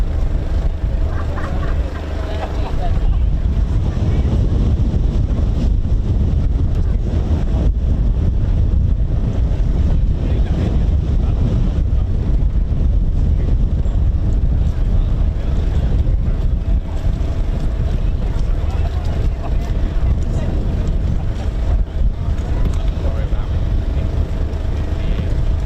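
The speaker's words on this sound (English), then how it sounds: "So you can probably hear how windy it is up here." Strong, steady wind buffets the microphone at an outdoor airshow, a continuous loud low roar with gusty rumble throughout, while a person talks beneath it.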